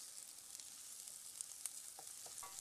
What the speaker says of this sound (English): we're going to fry the onions in the oil until they're nice and soft as well